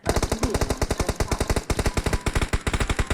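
Rapid automatic gunfire in PUBG Mobile played on PC, a steady close burst of evenly spaced shots running throughout with only brief gaps, loud and without talk over it.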